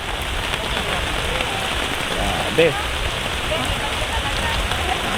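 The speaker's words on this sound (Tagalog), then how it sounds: "Ngayon lang tayo inulan ng ganito." Heavy rain pours steadily over a forest campground, a dense broadband hiss of drops on surfaces lasting throughout, with a brief voice exclaiming midway.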